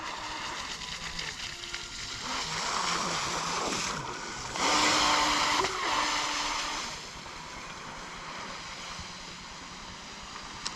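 A Proboat Jetstream RC jet boat runs on a lake, giving a steady buzzing whine that swells louder for a couple of seconds midway before settling back, heard from a moderate distance with wind and water noise.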